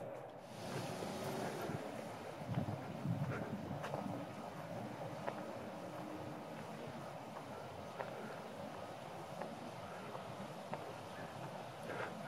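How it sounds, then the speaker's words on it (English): Wind rushes steadily through trees in a cemetery, a soft, continuous outdoor roar with a gustier swell near the start. No one speaks. "You can hear the wind blow through the trees."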